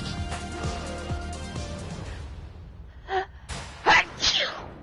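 A person sneezes near the end, following a softer gasping intake of breath, while busy game sound effects and music from a Streets of Rage 4 session play beforehand.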